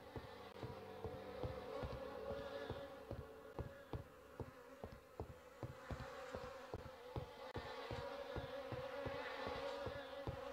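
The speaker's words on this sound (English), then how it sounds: "The air is heavy with the stink of rot and the buzzing of those damned insects." Dense, steady buzzing of flies and wasps hangs over a rotting mountainside in The Fidelio Incident, a constant drone broken by regular sharp clicking ticks throughout.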